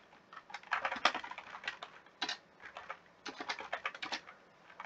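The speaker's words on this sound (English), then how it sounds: "Sorry, new keyboard. I fumble a lot when I type now." Typing on a new computer keyboard, bursts of rapid, uneven key clicks with brief pauses, close but quiet, with no talking.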